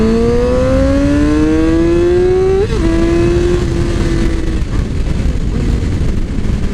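A 2007 Yamaha R6 sport bike accelerates hard in second gear, its engine note climbing steadily in pitch, dipping briefly at a shift, then holding a loud, close, sustained whine.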